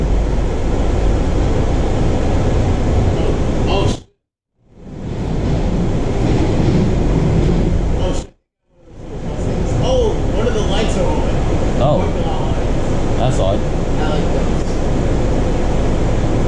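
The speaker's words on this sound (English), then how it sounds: "Green Line train to Branch Avenue is leaving." A Washington Metro Green Line subway train rumbles and roars steadily, with two brief gaps of silence, a broad rushing noise like a train pulling out through a tunnel.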